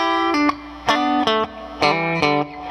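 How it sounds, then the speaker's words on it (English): A Fender Vintera 50's Stratocaster electric guitar on its bridge pickup plays a short phrase of bright, clean notes and chords, each plucked attack ringing briefly before the next, played alone. "So right now I get a clean sound. This is just your bridge pickup."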